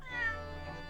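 A single short cat meow from the video game The Great Ace Attorney Chronicles, soft and clear, rising then trailing off, with nothing else around it.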